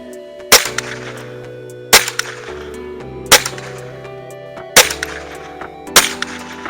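Five sharp .22 rifle shots crack at an outdoor range, evenly spaced a little over a second apart, each loud and clear with a short ringing tail.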